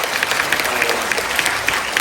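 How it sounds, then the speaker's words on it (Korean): Dense, steady clapping from an audience at a Korean film production company's 20th-anniversary stage event, filling the whole moment without a break. "우리 수영원님께도 박수 한 번 더 부탁드립니다"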